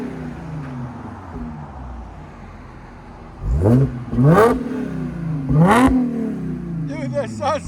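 A 2013-2016 Audi S5 with a 3.0L supercharged V6 and an aftermarket cat-back exhaust, idling with a low burble before three sharp rising revs in quick succession, loud and close, with people talking nearby.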